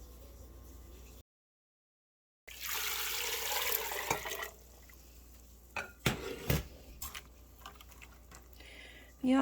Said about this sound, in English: I'm going to add that much water to completely submerge them.